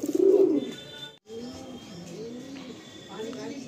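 Madrasi high-flying pigeons coo in low, rolling calls, loudest at the start and then continuing steadily beneath a voice.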